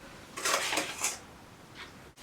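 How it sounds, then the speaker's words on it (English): A spoon is dragged around a bowl of chocolate meringue mixture, giving a few close scraping and clinking strokes followed by a lighter tap, with no voices. "I'm literally just going to drag my spoon around and mix it up a bit"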